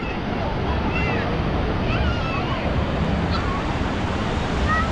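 Ocean surf at Praia Grande beach on the Atlantic coast of São Paulo, a steady broadband wash of breaking waves with wind noise, close and loud and continuous, with crowd sounds of people swimming faintly underneath.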